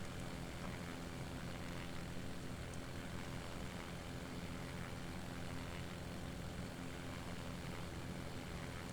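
A propeller aircraft engine in the X-Plane 11 flight simulator drones steadily at a constant pitch throughout a flight over the Southern Alps, a continuous even hum with no pauses.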